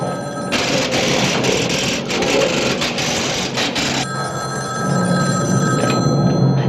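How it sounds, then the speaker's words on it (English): An old-style telephone bell rings loudly in a long metallic trill, stops, then jangles again, close by with no talking. "Your phone's ringing."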